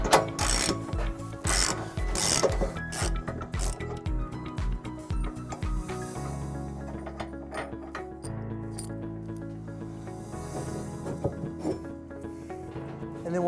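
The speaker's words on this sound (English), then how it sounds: "It's held in by this bolt that we'll remove using a 15/16 socket." A ratchet turning a 15/16 socket loosens the hitch receiver bolt on a 2020 Tesla Model S, clicking rapidly and loudly in quick rhythmic strokes, then slowing into longer grinding pulls and occasional metallic clinks.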